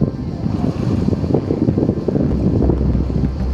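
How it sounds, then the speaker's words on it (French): Boat engine starting up and pulling away, a low rough rumble that grows steadier toward the end under gusty, windy noise, with no voices. "Il démarre le bateau, il se taille."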